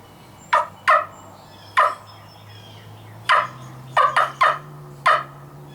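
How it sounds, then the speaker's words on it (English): Sharp, high turkey cut calls blown on a wing bone turkey call: short yelping clucks, some single and some in quick clusters of two or three, close and clear over a quiet hum. "Now another sound you can make with this call is a cut."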